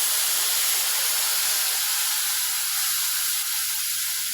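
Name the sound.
tamarind water poured into sautéed onions and chilies sizzling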